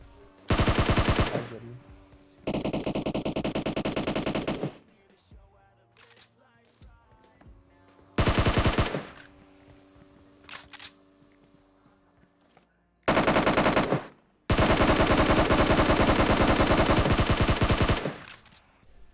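Loud automatic gunfire from the mobile battle-royale game PUBG Mobile, coming in several long sustained bursts separated by quieter gaps, with no talking in the gaps.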